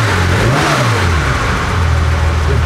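A Porsche 914/6 engine running loud and close, rising in a smooth rev then falling back to a steady throbbing idle, no talk.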